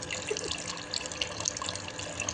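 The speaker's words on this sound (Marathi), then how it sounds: "राज आता पाणी टाकताय पण नळाने" Water runs from a kitchen tap while dhaba-style chicken is being cooked, a steady splashing flow that stays fairly soft and even throughout, with no talking.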